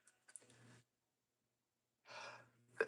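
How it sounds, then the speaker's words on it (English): A sneeze indoors in a dusty room: a short breathy inhale, a pause, then a sharp, loud burst that ends the sequence, with no talking. "Boy, I'm sneezing a lot."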